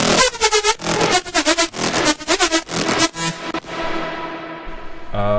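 Studio synthesizer patch with LFO modulation applied, producing loud, rhythmically pulsing bursts that swell and cut repeatedly for several seconds before a sustained tail fades out, heard alone.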